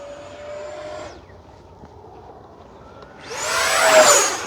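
FMS Yak-130 radio-controlled jet with a 70mm electric ducted fan flying at about 40% throttle, a whining fan note that fades as it passes, then a loud rushing, whistling return as the jet sweeps close overhead, with no voices.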